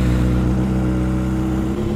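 A motorcycle engine warms up nearby with a steady, loud low rumble and a slight rise in pitch, with no voices.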